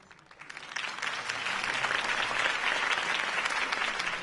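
A large crowd in a video game breaks into sustained applause, swelling quickly after a quiet start and holding steady as a dense wash of clapping.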